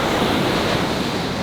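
Steady broadband rush of ocean surf breaking on a video game beach, continuous and fairly loud throughout, with a windy hiss and no voices.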